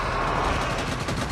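Dense, rapid gunfire from an Abomination boss fight in Call of Duty Mobile, loud and continuous bursts with no pause across the short stretch.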